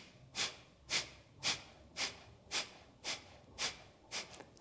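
Quick rhythmic belly-pumping breaths in a yoga breathing exercise, about nine sharp nasal puffs at an even pace of roughly two per second, close and fairly quiet, with no talking.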